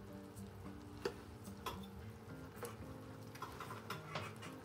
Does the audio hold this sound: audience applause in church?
no